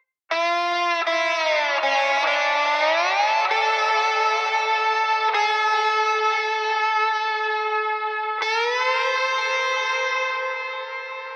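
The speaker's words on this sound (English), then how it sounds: "The Lush effects processor combining reverb, delay, and modulation into one plugin." Slide guitar run through a combined reverb, delay and modulation effect plays sustained gliding notes that swirl and shimmer, with echoing smeared tails behind each slide, loud and alone.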